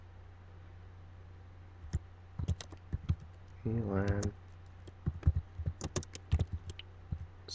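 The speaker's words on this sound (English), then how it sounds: "as I'm typing right now" Fingers tap on a Windows computer keyboard while a command is typed, with quiet irregular bursts of key clicks spread across the clip and someone speaking briefly in the middle.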